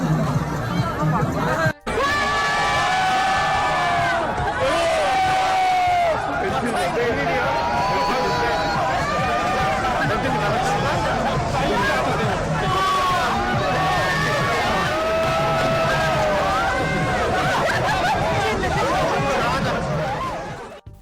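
A crowd on a Suwon street shouts and cheers around a Porsche 718 Boxster under attack. Loud, overlapping excited voices and yelling fill the air without a break, with a brief sharp dropout early on.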